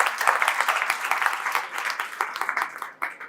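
Audience applause at a menstrual hygiene awareness session, steady dense clapping that holds through the clip and tapers near the end.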